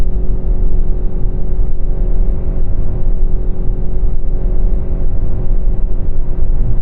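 A Ford Kuga's engine runs loud and steady while held on the brake, a dense constant drone with a sustained hum and little variation in pitch, close up and without speech.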